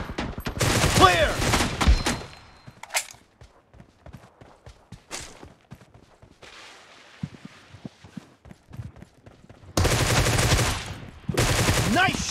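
Loud automatic gunfire in the PUBG video game comes in several dense bursts separated by quieter stretches with single shots and footstep-like thuds, and a long sustained burst near the end.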